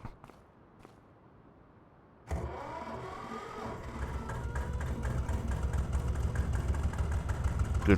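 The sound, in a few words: Porsche diesel tractor engine running in Farming Simulator video game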